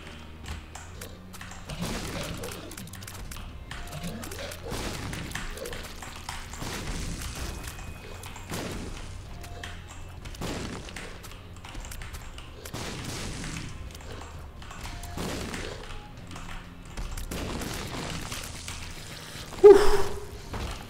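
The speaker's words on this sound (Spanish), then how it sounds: "Lo llevo tan mal, todo lo que son explosiones en este juego" Explosions in The Binding of Isaac: Repentance, a run of dull repeated booms spaced every second or two, fairly soft and low, ending in one sharper, louder blast near the end.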